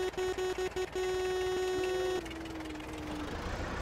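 A vehicle horn honks in Farming Simulator 22: a quick run of short, clipped toots, then one long sustained blast that cuts off and gives way to a fainter tone sliding gradually downward.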